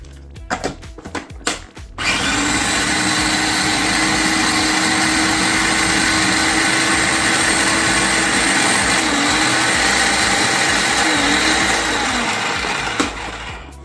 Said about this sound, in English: So it's blended up pretty good